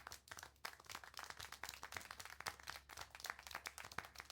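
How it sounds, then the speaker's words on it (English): In the video game Syberia, many hands clap in a dense, rapid patter that keeps going without a break, like applause from a small crowd, with no voices heard. "How can you clap?"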